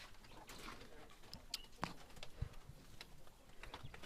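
Quails in a cage give faint, soft cooing calls and small scattered movements. The sounds are quiet and set against a low hiss in the background.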